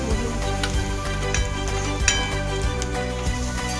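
Onion and green chili fry in a pan, a loud, steady sizzle with faint scraping ticks and a low rhythmic hum beneath, no voices.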